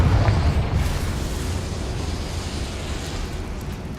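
A Confringo explosive spell blast in the game Hogwarts Legacy, a loud booming eruption with a deep rumbling roar that slowly decays over several seconds, with no voice over it.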